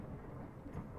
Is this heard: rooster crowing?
no